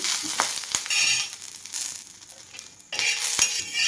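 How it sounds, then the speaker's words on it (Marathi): Curry leaves and green chillies frying in a pan as they are stirred, a bright close sizzle broken by clinks of a spoon against the metal, with a brief quieter pause before the sizzle returns. "आता ना मी हा कढीपत्ता घेतलेला आहे, तोही टाकून घेते आणि कढीपत्ताही थोडासा मी हलवून घेणार आहे."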